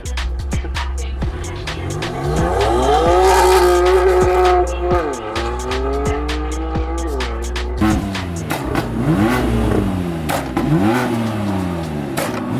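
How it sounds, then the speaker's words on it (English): A loud BMW drag car engine revs and roars continuously, with sharp crackling exhaust pops and bangs and tire squeals between surges. "Can you turn the pops and bangs off? I'm gonna get deafened otherwise."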